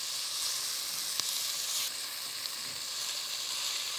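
Onions sizzle steadily in a pan, a soft continuous frying hiss with a faint tap or scrape of a utensil partway through, heard alone without talking.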